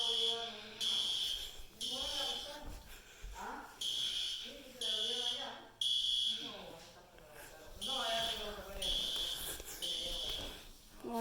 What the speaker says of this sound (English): Alarms are going off.